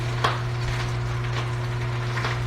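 Bacon and rice frying together in a pan for fried rice, giving a steady close sizzle with a few stirring scrapes over a constant hum.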